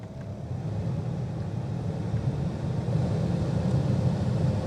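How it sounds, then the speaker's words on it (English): The blower motor fan of a 2006 Ford Fusion runs inside the cabin as a steady low whooshing drone, swelling slightly louder partway through as it changes speed, with no voices. "We can hear the fan accelerate and decelerate throughout the various ranges here"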